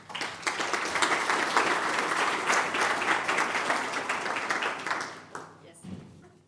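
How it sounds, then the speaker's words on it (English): Conference audience applauding a speaker at a general assembly, dense steady clapping for about five seconds that then fades out, followed by a brief voice. "Give her an applause."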